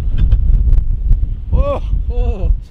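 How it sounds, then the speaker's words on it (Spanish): Strong wind buffets a microphone outdoors in Canada, producing low, heavy rumbling gusts, with a brief voice and some rising tonal sounds partway through. "Mucho viento."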